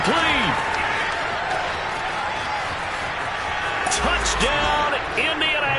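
A stadium crowd in an American football video game cheers a big Indianapolis play, a broad steady roar with scattered claps under a commentator's voice.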